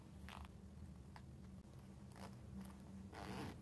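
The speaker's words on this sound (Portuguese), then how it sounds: "eu vou sair com o cursor lá do outro lado pra fechar o zíper de novo" Zipper pull sliding along the zipper of a sewn shoulder bag, a few short scratchy zipping strokes close by over steady low background hum, with no talking.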